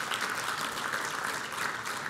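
A crowd at an awards ceremony honoring police chiefs breaks into dense, steady applause, a continuous wash of many hands clapping at once.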